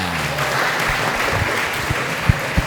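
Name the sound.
audience applause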